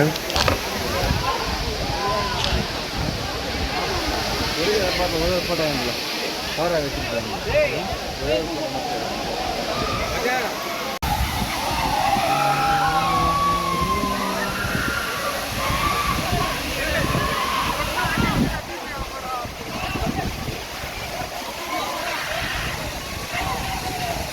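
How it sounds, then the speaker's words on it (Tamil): Waterfall at Kollimalai hill area, a steady broadband rush of falling water close by, continuous throughout, with people talking and shouting over it. "ஃபால்ஸ் பாருங்க"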